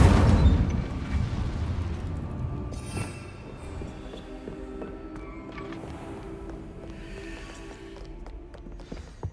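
The Incendio fire spell in the video game Hogwarts Legacy opens with a loud, roaring blast that quickly decays into a lower, crackling rumble, fading over several seconds with faint clicks and a small pop at the end.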